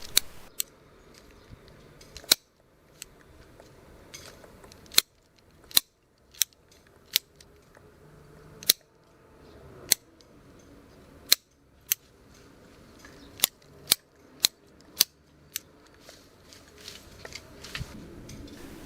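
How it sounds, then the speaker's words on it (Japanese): Hand shears snip a Leyland cypress hedge in sharp, crisp cuts, some spaced and some in quick runs of three or four, close and clear over faint outdoor background. "慣れてきたらハサミを斜めの角度に差し込んで手早く切ります"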